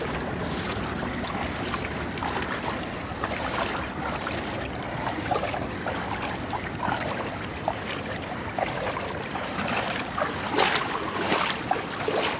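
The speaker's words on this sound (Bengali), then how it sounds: "পুরো দুবাইয়ে পানি, রাস্তা মাস্তা সব ডুবেছে।" Floodwater covers the streets of Dubai, a steady wash of rushing, sloshing water with a few splashy surges, fairly close and without speech.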